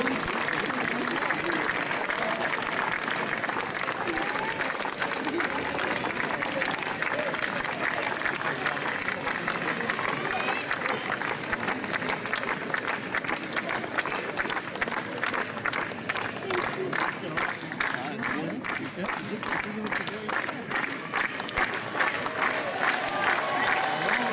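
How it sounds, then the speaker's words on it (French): At a Force Basque strongman event with a cart-lifting challenge, a large outdoor crowd applauds and cheers a competitor in a long, sustained, dense roar of clapping, fairly distant, with voices calling out in the mix. "Je crois qu'on peut l'applaudir très très fort."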